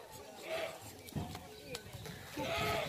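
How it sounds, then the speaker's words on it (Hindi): Goats for sale on a farm bleat a couple of times, with a nasal cry early and another near the end, beneath someone talking over the pen noise. "और 2 बकरे ये भी आ गए हैं"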